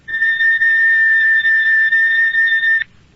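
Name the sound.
electric oscillator tone at 4,000 cycles per second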